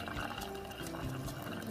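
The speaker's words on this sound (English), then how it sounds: "There's the boiling hot water." Boiling hot water pours steadily into a cup of instant noodles, a continuous close liquid splash and fill sound running throughout with no talking.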